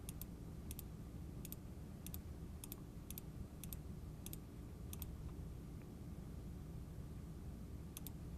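Keystrokes on a computer keyboard: a faint, uneven run of about a dozen light clicks in small pairs over steady background hiss, with no speech.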